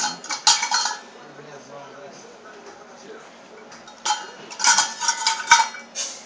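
A utensil whisking and stirring in a bowl during home baking, sounding as bursts of clinking and scraping at the start and again near the end, with quieter handling between and people talking at times.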